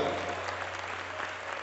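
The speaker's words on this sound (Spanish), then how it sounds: "El aplauso fuerte al Señor." A church congregation gives a brief burst of strong applause, a steady wash of many hands clapping that fills the room at a moderate distance.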